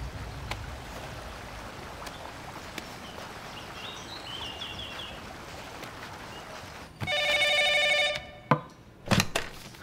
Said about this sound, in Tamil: சார் ஃபோன் வந்துருக்கு